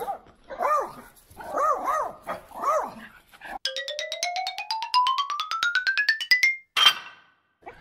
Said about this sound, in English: here comes the dog.